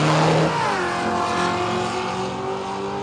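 A diesel drag car launches down the strip in the right lane, its engine roaring loud and close before settling into a sustained, rising drone as it pulls away.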